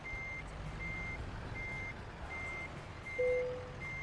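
Steady reversing beeps from a truck in American Truck Simulator, evenly spaced pulses repeating over a low engine rumble, with a brief brighter tone near the end.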